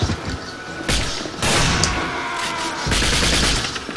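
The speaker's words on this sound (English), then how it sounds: "the hit detection for shotguns was just really bad. So it took a couple of shots." Shotgun blasts from the video game 007 NightFire, several loud booming shots in quick succession, each with a broad crashing burst and short decay.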